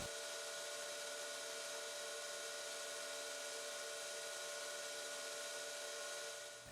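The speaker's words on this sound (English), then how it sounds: "To generate enough heat by friction, I am rotating at about 2700 RPMs." Wood lathe spinning a bottle stopper at about 2700 RPM, a steady high whine with constant hum, loud and unbroken throughout.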